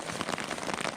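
Steady rain patters on a taut tent while camping in the Alberta wilderness, a dense, continuous hiss of drops close by with no voices.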